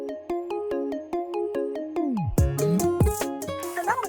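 A phone placing a call plays a melodic ringtone, a bright repeating pattern of short tones for about two seconds, followed by sweeping, swooping synthetic sounds and busier tones.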